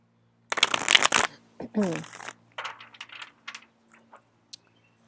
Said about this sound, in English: I'm going to do one big shuffle.